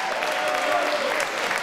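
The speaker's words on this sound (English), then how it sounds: "Give him a round of applause for Michael Bourne." An audience at a boxing event applauds the winner, Michael Bourne, with a steady, fairly distant roll of clapping that holds evenly for a moment, blurred into the hall's ambience with a faint crowd murmur.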